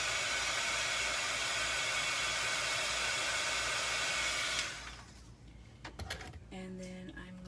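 A heat dryer blows steadily to dry a small dot on a paper craft piece, a loud, constant whoosh that cuts off after about four and a half seconds, followed by light handling clicks and brief murmured talk.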